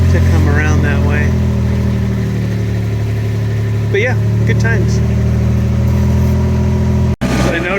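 A tractor engine runs steadily in a loud, continuous idling drone while someone talks over it outdoors as he surveys damage after Hurricane Ian.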